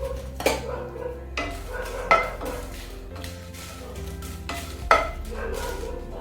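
Kashmiri dried red chillies dry roasting on a tawa without oil, with repeated metal scrapes and clinks of stirring over a faint sizzle, close and fairly loud.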